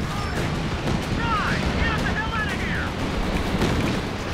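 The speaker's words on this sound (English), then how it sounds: "I am hitting it with artillery" Artillery fire in the Company of Heroes real-time strategy game, rumbling booms and whistling shell sounds layered over a constant wash of battle noise, with scattered impacts across the stretch.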